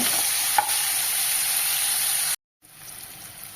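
Tomatoes being stirred and sautéed in a pan for a brinjal and drumstick kara kuzhambu give off a steady, close sizzle with a faint scrape near the start, then cut to silence before a quieter frying hiss resumes.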